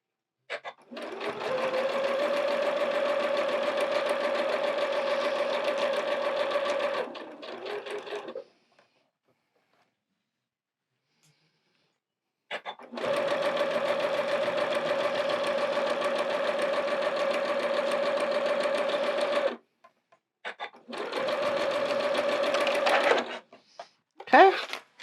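Sewing machine stitching a sunflower quilt, running in three steady close bursts separated by pauses, its motor whirring evenly with a rapid needle rhythm.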